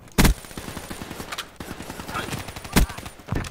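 Black Ops 3 team deathmatch gunfire cracks out as rapid bursts and single sharp shots, a few loud blasts among quicker automatic fire, while a player talks now and then.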